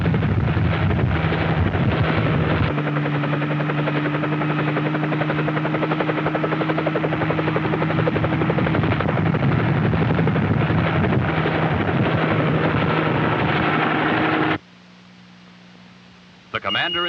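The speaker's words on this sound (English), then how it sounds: "The president then boarded a nearby helicopter for an aerial tour of the space launch areas" Helicopter flying over the Cape Canaveral space launch areas on a 1963 presidential tour, a loud steady rotor and engine drone running unbroken for most of the time before suddenly cutting to a quieter rumble near the end.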